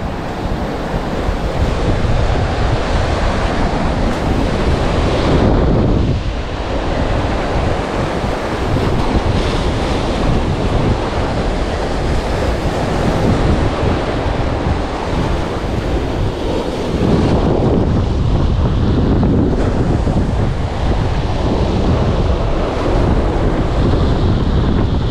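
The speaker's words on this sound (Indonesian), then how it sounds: "Meski kondisinya kurang kondusif, Ben, karena ombaknya cukup kencang" Strong ocean waves break and wash continuously onto a beach during shore fishing, a loud, close roar of surf with wind buffeting the microphone and surges swelling and easing over time, no voices.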